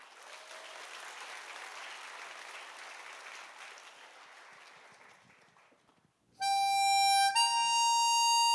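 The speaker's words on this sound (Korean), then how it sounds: "큰 박수 부탁드립니다." A church audience at a family praise festival applauds steadily for about six seconds; the clapping thins and fades, then instrumental music starts abruptly.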